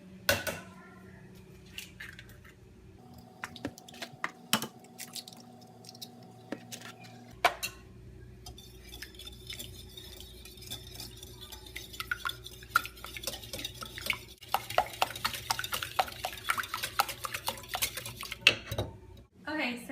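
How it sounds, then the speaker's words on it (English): A whisk or fork clinks and scrapes rapidly against a bowl while two eggs are beaten for a pumpkin pie, a steady busy metallic rattle in a kitchen, close and fairly loud, following some earlier low hum and clatter. "now we're going to beat 2 eggs."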